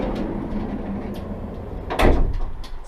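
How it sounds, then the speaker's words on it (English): The sliding side door of a Ram Promaster van rolls and thuds shut, a short loud slam after a stretch of low rumbling room noise. "Sliding door on this side."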